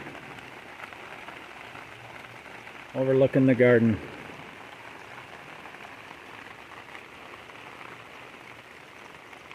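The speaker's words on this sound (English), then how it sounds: "I love the sound of a nice evening rain" Steady, soft evening rain patters continuously in a garden, with a brief spoken phrase partway through.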